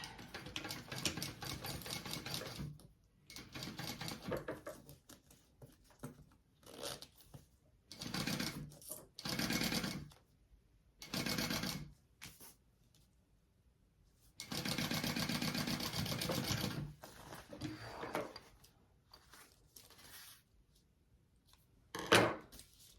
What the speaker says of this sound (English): I'm just going to baste that into place